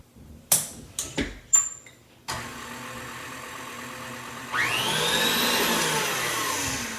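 Electric stand mixer beating olive oil cake batter in a bowl: a few scraping knocks open, then a steady motor whir that jumps to a louder, higher-speed hum partway through, close and with no talking.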